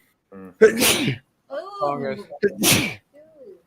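A sharp, loud sneeze close up, with brief voices talking before and after it.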